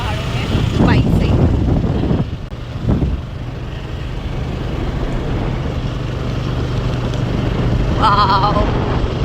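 Motorcycle riding along a mountain road in the Urgam valley near Joshimath, its steady engine drone continuous and fairly loud throughout, with voices talking over it near the start.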